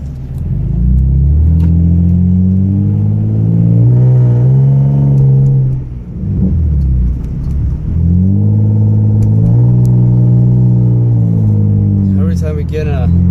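A Nissan 350Z rumbles steadily from inside the cabin, its engine note rising and falling through gear changes, loud and continuous while someone talks over it.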